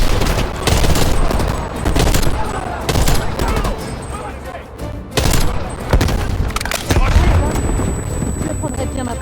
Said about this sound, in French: Des rafales, Lazare. On n'a plus beaucoup de munitions.